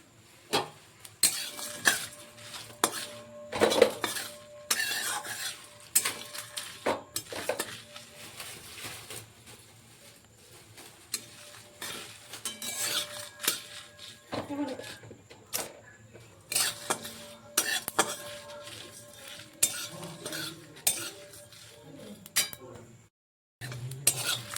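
Dry chilli, cumin, coriander, fennel and ajwain being roasted in a pan for tamarind pickle, heard as intermittent metal scraping and clinking of a spatula against the pan, with quiet gaps between bursts of stirring.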